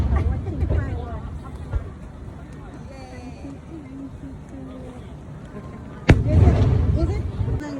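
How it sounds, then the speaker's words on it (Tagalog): A summer fireworks show in Kameoka, Japan: distant booms and crackles thud through a crowd's murmur, with one sharp nearby burst followed by louder rumbling; people chat throughout. "We are watching fireworks."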